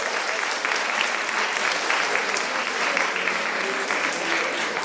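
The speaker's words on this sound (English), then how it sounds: "Let's give Andrea a big round of applause." A warm round of applause from a studio audience for a woman guest on a talk show, dense and steady from start to finish.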